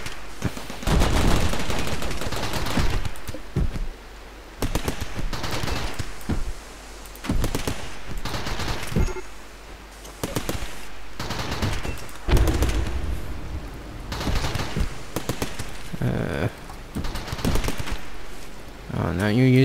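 Repeated bursts of gunfire from raiders dropped into a colony base in RimWorld, with turret defenses, crackling in rapid volleys across the whole stretch, loud and close, broken by short pauses, while a person talks over it.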